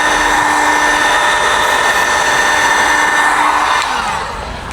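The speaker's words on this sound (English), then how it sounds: "Let the heat gun do the edges because it will actually like grab" A heat gun blows hot air onto the edges of vinyl door skins on a 2011-2018 Jeep JKU, a loud steady whirring hiss close up that drops in level near the end, with no talking.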